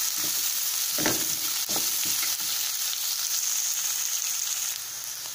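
Vegetables fry in a pan for veg noodles, a continuous close sizzle with a few stirring scrapes early on, easing slightly toward the end, with no voices.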